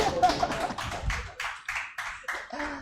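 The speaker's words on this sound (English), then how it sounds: "Shall we clap for them?" Students at a Hot Seat Series session at EPSU Madina clap in a steady rhythm of roughly eight close, sharp claps, with faint voices underneath.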